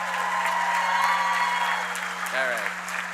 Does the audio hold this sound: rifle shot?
no